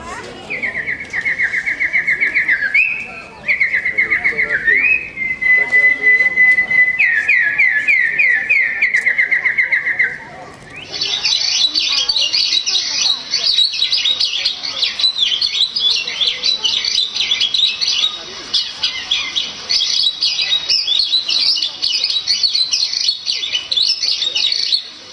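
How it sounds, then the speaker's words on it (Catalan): Whistled or synthetic bird chirps and warbles forming a sound effect in a Catalan pantomime performance; sustained high trills, then denser overlapping tweeting, loud and continuous throughout. "a poder escoltar el piular dels ocells"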